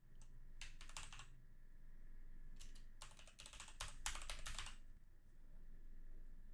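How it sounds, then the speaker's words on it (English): Fingers typing on a computer keyboard, heard as faint clusters of quick, light key clicks in short bursts with small pauses, over a low steady background hum and no speech. "And let's type in our subtext."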